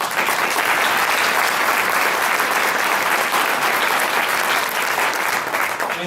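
Steady, dense applause from the audience at a Rotary Club induction banquet, loud and continuous for about six seconds with no break.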